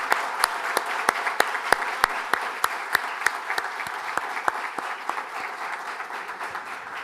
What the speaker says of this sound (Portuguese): peço uma salva de palmas aqui para a Mãe Cecília